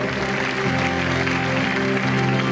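A crowd claps steadily throughout, the applause blending with loud music carrying sustained tones.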